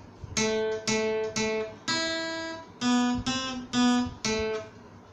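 An electric lead guitar picks out a jingle as a sequence of about nine clear single plucked notes, each ringing and fading, played alone and close with no talk.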